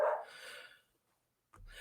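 Dog barking indoors during a history talk, one short sharp bark fading out, then a brief low rumble after a silence, fairly close and moderately loud with no voice over it.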